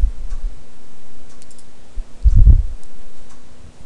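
A computer mouse clicks once, close and fairly clear, against a quiet room hum.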